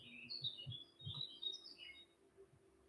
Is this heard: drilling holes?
no